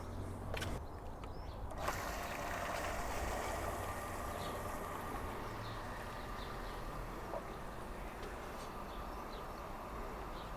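Mains water rushes steadily through newly fitted PVC piping into a 10ft backyard pool, a continuous broadband hiss and rumble that stays even from start to finish with no voices.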